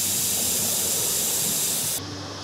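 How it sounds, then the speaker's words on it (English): Blue spray paint hisses steadily from an aerosol can onto a fishing lure shaped like an engorged tick, a continuous close airy spray that cuts off near the end. "just barely spray a little bit of blue on it"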